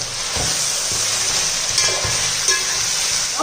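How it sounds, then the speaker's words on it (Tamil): Spices sauté in a pan with a continuous sizzle, and a spatula scrapes and stirs in irregular strokes beneath it. "இப்போ இதையும் நல்லா வதக்கிக்கிறோம்ப்பா. வதக்குறதுல நம்மளுக்கு டேஸ்ட்டு கிடைக்கும்."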